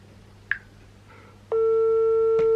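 A telephone tone sounds during a call to a father: a soft click, then a loud, steady electronic tone starts about halfway through and holds unbroken to the end, with no talking.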